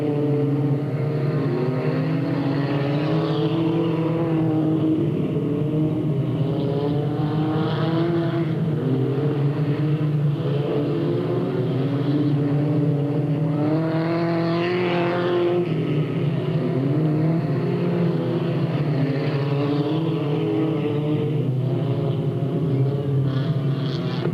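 Race cars on the final lap at Delta Speedway in 1996 roar continuously, their engine notes rising and falling in loud, overlapping sweeps as they pass close by.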